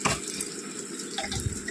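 Rainwater dripping and trickling indoors through a leaking roof during heavy rain, a steady close wet splashing with a few sharper drops, with no talk.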